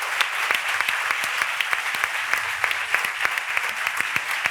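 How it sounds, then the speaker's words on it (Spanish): An audience at a women's event in Lugo applauds Loli, sharp individual claps standing out over a continuous bed of hands, sustained and fairly close throughout. "Un aplauso Loli."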